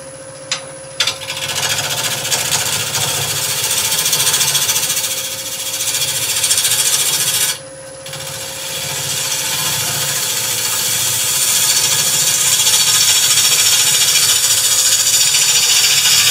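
A wood lathe tool skims the spinning surface of a natural-edge vase, a harsh continuous scraping rattle over a steady motor hum, briefly pausing twice before carrying on.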